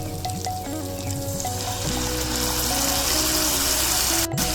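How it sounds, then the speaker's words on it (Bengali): Whipped sour curd going into sautéed spice masala in a hot pan for an egg curry, giving a loud, steady sizzle and hiss that builds and holds throughout, with no talk. "আমি এদিকে দিয়ে দেবো ফেটিয়ে রাখা টক দই"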